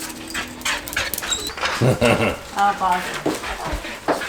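An excited dog pants quickly and lets out high whimpers and small yips up close at a homecoming, while people talk warmly over it.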